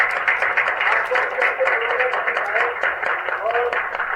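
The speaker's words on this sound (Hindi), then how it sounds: "मैं चाहता हूँ संतोष सर के लिए एक बार जोरदार तालियां" Loud, steady applause from an audience at a Sunday venue gathering, a dense wash of clapping holding evenly throughout with crowd voices mixed in.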